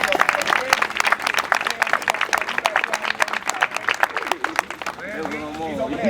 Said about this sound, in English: give a round of applause to Brother Rich